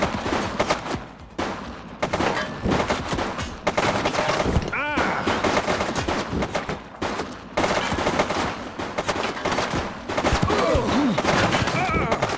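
A suspect opening fire in the 80s crime-city police game The Precinct: bursts of rapid gunfire and scattered shots, loud and close, with shouted voices and game chatter over the top.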